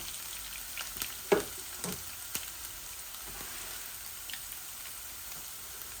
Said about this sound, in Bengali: এই আমার রসুনগুলো একটু লাল লাল হয়ে যাক, তো পেঁয়াজও দিলাই মো।